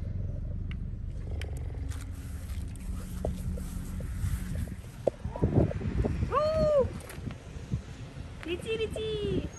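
A cat gives a couple of short rising meows near the end, over low background rumble and soft scraping sounds.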